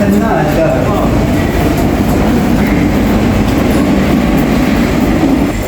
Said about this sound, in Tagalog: Ayun yung tren.